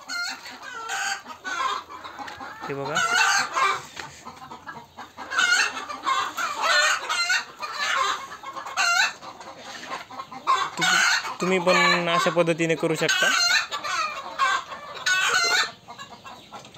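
Hens cluck steadily in a wire-mesh coop framed with wood, with occasional rooster crowing mixed in, loud and close throughout, while someone talks over the birds.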